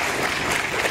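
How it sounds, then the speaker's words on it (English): Loud, dense applause from a large audience at a lecture meeting, filling the whole moment as a steady wash of many hands clapping, with no break. "I request you to also give a very large applause for our keynote address"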